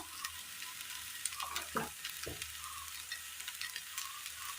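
Tomatoes fry in oil in a pan for a Kerala curry, giving a steady, fairly quiet sizzle with a few soft stirring scrapes and no talking.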